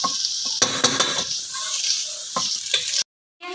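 Bitter gourd and onion fry in a pan, a steady loud sizzle broken by several scraping stirs of a utensil, ending in a brief silence, with no speech.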